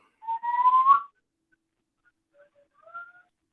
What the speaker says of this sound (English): Who's whistling? My grandbaby.